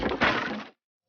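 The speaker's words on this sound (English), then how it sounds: "The deadly volley shattered the deck and smashed riggings." A sound effect of a cannon volley smashing into a wooden ship's deck and rigging: one loud, close crashing, splintering burst that lasts under a second, then cuts to silence.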